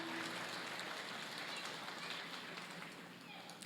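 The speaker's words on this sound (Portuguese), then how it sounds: "Pode aplaudir esse Deus poderoso, aplaude esse Deus tremendo." Congregation applause at a Festa de Santo Inácio church gathering, a steady dense wash of clapping that holds evenly and fades slightly at the end, heard alone without talk.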